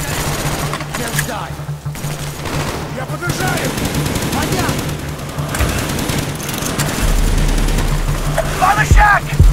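Machine gun fire in the video game Call of Duty: Black Ops, dense rapid gunfire in a loud battle mix with rumbling booms, while shouted voices call out over the shooting.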